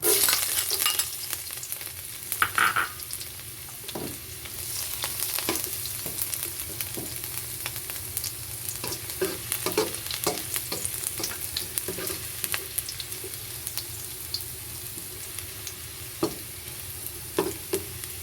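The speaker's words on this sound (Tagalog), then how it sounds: "mainit na ang ating oil. Ilalagay na natin ang ating bawang." Garlic sizzles steadily in hot oil in a pan, a continuous close frying hiss broken by scattered stirring clinks and scrapes, with no talking.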